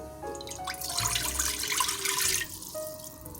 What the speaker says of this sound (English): And you're also going to put your water in.